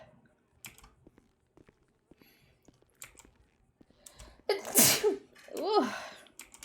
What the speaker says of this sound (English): Oh, I'm gonna sneeze.